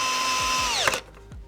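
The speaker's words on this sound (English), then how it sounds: "I use my drill, but I've got it on a torque setting so I can't smash the case." Cordless drill on a torque setting driving screws into a Graco 390 paint sprayer pump case, a close high whine that winds down as the clutch slips, then stops, with ratcheting clicks underneath.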